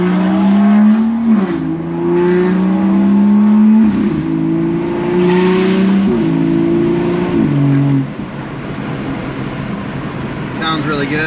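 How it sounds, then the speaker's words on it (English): BMW F30 340i fitted with an M Performance exhaust, revving in stepped pulls that rise and hold before dropping back, a deep, close, loud engine note that settles to a steady idle toward the end. "Sounds really good actually with this M Performance exhaust."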